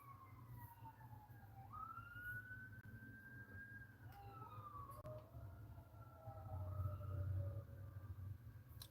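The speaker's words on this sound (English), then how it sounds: "Pardon the sirens." Emergency vehicle sirens wail and sweep up and down outside, faint and distant, with several overlapping tones shifting pitch as they pass, over a low steady rumble of traffic.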